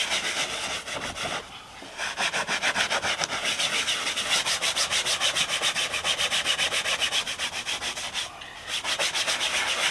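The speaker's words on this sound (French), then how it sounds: "rien ne m'empêche de frotter" Cleaning product is scrubbed into the fabric seat of a Fiat 500, a steady rhythmic rasping brush-like rubbing with rapid back-and-forth strokes and two brief pauses.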